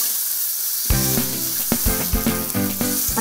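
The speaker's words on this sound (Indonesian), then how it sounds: "Kalau semua sudah siap, tinggal tumis deh" Spices of shallot, garlic, and red and green chillies sauté with carrot and potato in a hot pan, a loud steady sizzle broken by clattering stirring knocks near the mic.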